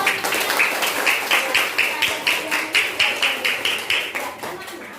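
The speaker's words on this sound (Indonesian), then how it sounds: "Tepuk tangan dulu dong buat" Classroom students clapping together in a rhythmic, steady beat, close and moderately loud, continuing for several seconds.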